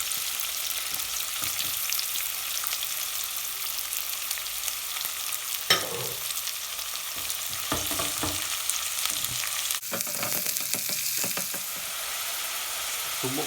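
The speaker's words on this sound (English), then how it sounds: "what we're looking to do here now is caramelize the onion before we add our other ingredients" Sliced red and white onions fry in a pan for a mutton staff curry, a steady loud sizzle with occasional stirring scrapes and clatter, no voices.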